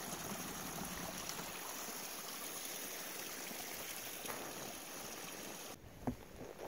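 A stream serving as a water source on the Appalachian Trail flows strongly, giving a steady, close rushing wash that thins briefly near the end.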